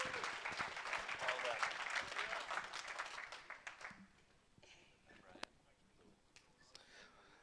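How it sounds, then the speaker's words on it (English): Audience applause at a student auction of an auctioneering college, a dense round of clapping for several seconds that tapers off into scattered claps and a quiet room. "How about a round of applause for North Carolina?"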